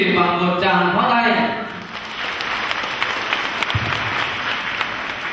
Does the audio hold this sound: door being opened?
no